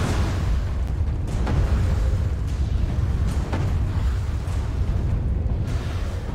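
Giant cannon firing in Alice: Madness Returns, a continuous heavy rumbling barrage with several dull booms and bursts rising out of it, loud and sustained throughout with no talk.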